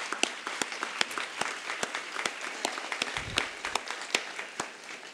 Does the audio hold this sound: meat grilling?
no